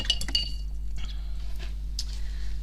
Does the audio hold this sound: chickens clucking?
no